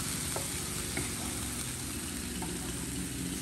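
Food sizzles steadily in a hot pan while being stirred, seasoned with pepper and garlic as it cooks toward whitening for Brasov-style fried potatoes, with a few soft utensil scrapes over the continuous frying hiss.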